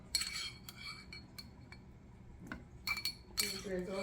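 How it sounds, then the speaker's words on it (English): Roasted red pepper being cut on a kitchen board, a few quiet knife taps and clinks of cutlery close by, in short irregular bursts with soft pauses between. "Now we're going to cut up some roasted red pepper."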